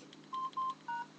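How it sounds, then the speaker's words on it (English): Keypad tones from a Samsung T401G phone: three steady beeps in quick succession, each lasting a fraction of a second, clean and close with faint background hiss and no speech. "have keypad tones. You can turn it on, like where you open it and you can press the keypad and stuff"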